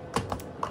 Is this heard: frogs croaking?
no